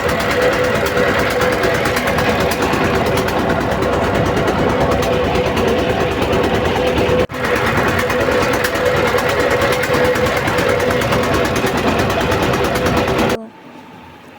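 A trawler boat's engine runs steadily for about thirteen seconds, a loud, close, unbroken mechanical drone with a constant hum, then cuts off abruptly near the end, leaving quiet background.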